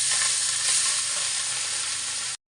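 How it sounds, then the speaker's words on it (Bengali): Fish sizzles steadily in hot oil, a dense, even crackle heard up close with no voices, then cut off abruptly at the end. "এই দেখো এইভাবেই মাছ ভাজি আমি"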